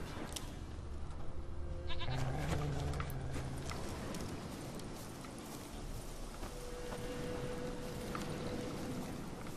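Faint goat bleats in The Witcher 3 video game rise over a noisy, crackling backdrop, a couple of short calls early and a thin sustained one later, with no clear talk.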